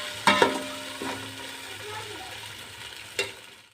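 Pounded small green chilies fry with garlic and ginger in a pan for chicken yakhni pulao. A quiet sizzle runs under sharp metallic clanks and scrapes from a spoon at the start and again near the end.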